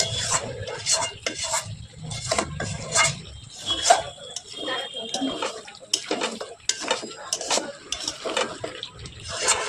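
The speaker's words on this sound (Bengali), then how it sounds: "তো এখন এটাতে জল দেবো।" Water goes into a pot of Bengali-style chicken curry, with splashing and pouring mixed with repeated metallic clinks and stirring scrapes against the pot, fairly close and uneven in rhythm.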